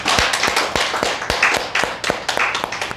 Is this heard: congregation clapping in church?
yes